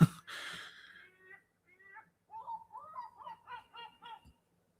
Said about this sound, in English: The seagull disagrees.